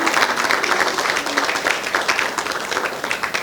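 A launch-event audience claps in a warm, sustained round of applause, a dense, fairly loud patter of many hands that holds steady for a few seconds before easing slightly.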